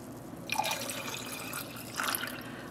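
Water is added to a dye pot in faint, soft splashing pours, two brief bursts of trickling liquid over a quiet background.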